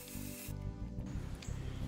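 Filler primer and spray paint hiss from aerosol cans onto 3D printed Master Chief armor parts, a few close, sharp bursts with short breaks between them.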